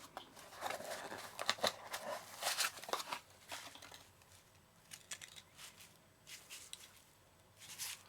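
Packaging of a ThruNite TH20 Pro headlamp kit being opened by hand, with scattered crisp rustles, snips and light clicks of cardboard and plastic, close and fairly quiet, in uneven bursts with pauses.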